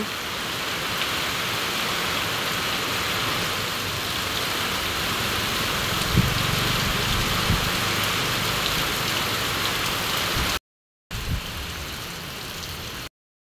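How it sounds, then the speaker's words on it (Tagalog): Heavy rain pours in a dense, steady hiss of drops hitting surfaces, close and unbroken. A few faint thuds sound midway, then a brief gap before the downpour resumes. "lalo pa po lumakas ang ulan."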